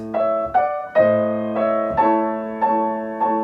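Piano chords from a Chopin prelude struck in a steady, repeated rhythm, each ringing briefly before the next, with the held harmony changing partway through as a held A drops out.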